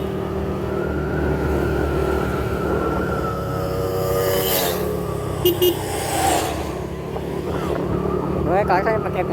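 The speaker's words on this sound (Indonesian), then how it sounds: "Gue klakson pakai klakson mobil" Car horn honked from a vehicle on the way to Curug Ci Tiis, short bright honks standing out over steady engine and road noise, with people talking throughout.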